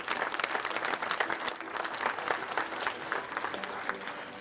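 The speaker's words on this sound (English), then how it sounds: "let's give the selection committee a round of applause" An audience at a business-of-the-year awards ceremony applauds the selection committee, a dense, steady wash of clapping from many hands that lasts throughout at moderate loudness.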